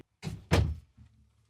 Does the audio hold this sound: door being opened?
yes